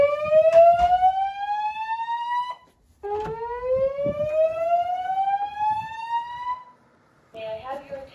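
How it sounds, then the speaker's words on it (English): A dormitory fire alarm test: two long, loud rising whoop sweeps repeat over a building's speakers, followed by a brief chime tone, with faint background noise. "There has been a fire alarm recorded in the building."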